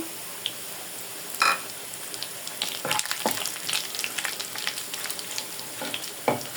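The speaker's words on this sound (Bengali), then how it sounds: "দিয়ে দেবো শুকনো মরিচ, লাল করে ভাজে নেব। এখানে একটু কালি জিরে আমি দিয়ে দেব।" Dried red chillies and nigella seeds frying in hot oil for a lentil dish, giving soft, steady sizzling crackle with scattered sharper pops and spoon stirring, fairly quiet and close.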